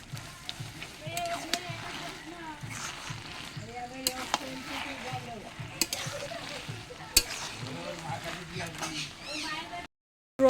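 Spiced taro greens with coconut, prawns and chickpeas fry in a wok and are stirred constantly: a low, steady sizzle with scraping and clinking, under a person talking, cut off briefly near the end.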